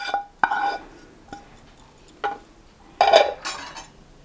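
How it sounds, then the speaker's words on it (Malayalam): Spoon clinking and scraping against a bowl while egg, oats and a sautéed mixture are stirred together, several sharp metallic taps separated by pauses, close and clear with no talking. "എല്ലാം കൂടി ഇട്ടിട്ട് ഒന്നും കൂടി അങ്ങ് ഇളക്കിയെടുക്കുക"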